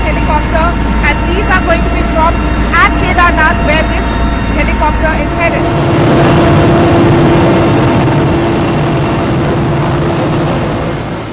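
An Air Force helicopter loaded with relief supplies bound for Kedarnath runs with a constant, heavy engine roar and deep rumble, close and loud, while someone talks over it.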